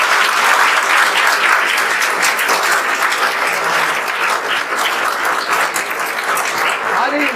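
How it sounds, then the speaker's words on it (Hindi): A roomful of students applauds a teacher in a class session, a continuous loud, dense burst of clapping with scattered voices underneath, lasting several seconds without letup. "एक बार आप लोग विवेक सर के लिए तो ताली बजा ही सकते हैं।"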